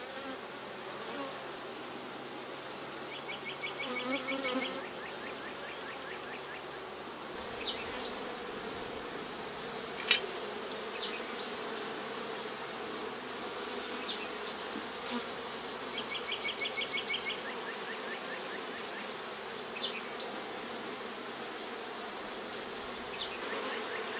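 Honey bees buzzing around a split hive, a constant close hum of many wings with individual bees droning past, continuing steadily for the whole stretch without talk.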